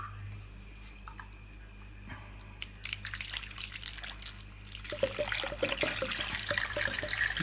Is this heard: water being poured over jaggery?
yes